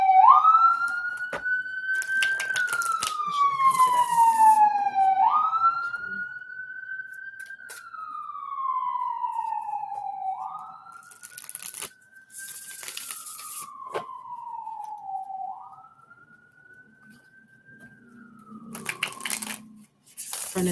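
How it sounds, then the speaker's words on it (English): Emergency sirens wail outside, a single rising-and-falling tone repeating in long slow sweeps, fairly loud and distinct, with brief scattered clicks and noises in between. "From the time I realized that I wanted to count how often the sirens went off, I caught it the last 4."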